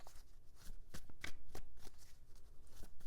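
Tarot cards riffle and slap together in a quick run of close shuffles, crisp bursts with brief pauses between them.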